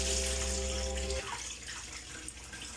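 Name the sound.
draining water from cooked pork crucetas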